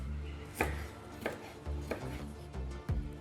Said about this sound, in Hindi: अब हम गोभी को काटेंगे। इसे भी हमें पतला पतला काट लेना है